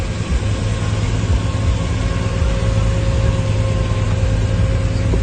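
A pastor's car sits with its engine running, a steady low idling rumble with a faint constant hum and no change in pitch throughout.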